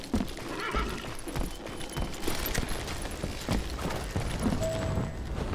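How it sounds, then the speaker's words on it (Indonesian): Horse hooves clip-clopping from a horse-drawn carriage in the Western video game Call of Juarez: Gunslinger, with whinnies and a steady rumble of movement running throughout amid busy game sound effects. "Ini kereta kuda apa nih?"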